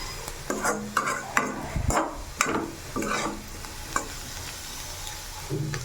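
Carrots fry in a pan while a utensil stirs and scrapes them, giving repeated scraping strokes over a continuous soft sizzle, close up and with no talking.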